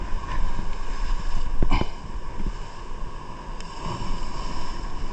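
A boat engine drones steadily out on the open sea, mixed with wind buffeting the microphone and the wash of waves, a few knocks and rattles breaking through midway, no talking.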